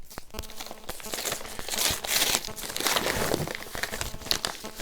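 Scissors cut lengthways through packaging on a soundtrack release during an unboxing. The plastic crinkles and crackles in dense, continuous bursts for several seconds, close and fairly loud, with no talking.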